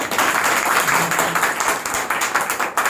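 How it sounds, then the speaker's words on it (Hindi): Dense, steady clapping from a group of children in a Hindi class, fairly close, lasting a few seconds with no talking over it. "बहुत बढ़िया, ताली बजाओ बच्चों।"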